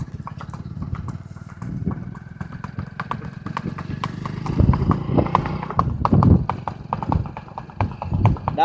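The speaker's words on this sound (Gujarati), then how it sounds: "ડાબલા ચોખા સંભળાયો." A Kathiyawadi horse's hooves clop in a steady, rhythmic gait, close and fairly loud, growing more pronounced midway, while people talk intermittently over the hoofbeats and an engine hums faintly.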